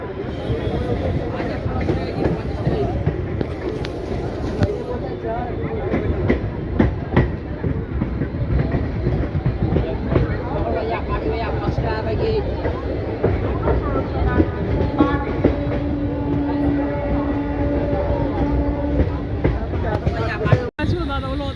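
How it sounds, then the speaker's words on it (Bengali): A crowded local train pulls out of Tarakeswar station during the Shravani fair rush, its steady rumble and clickety-clack filling the carriage continuously, with passengers talking throughout and a brief whistle-like tone near the end. "আমাদের ট্রেন তারকেশ্বর ছাড়ছে।"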